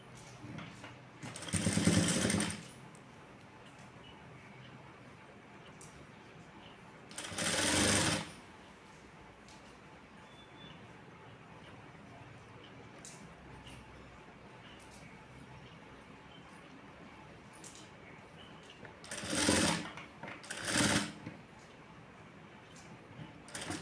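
A domestic sewing machine stitching a blouse runs in four short bursts of about a second each, separated by quieter stretches with faint room noise and soft handling between runs.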